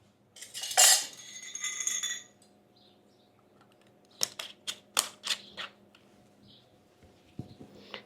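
A metal lid scrapes onto a glass preserving jar of plums, followed a moment later by a quick series of close, light clinks and taps.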